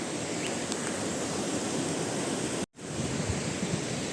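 Rushing water from a waterfall at Mannarkkad in Palakkad makes a steady, dense roar with no pauses, broken only by a brief dropout near the end.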